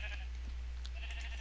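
A sheep bleats in the Minecraft video game, a short nasal cry over a steady low background hum, with a second faint bleat later on.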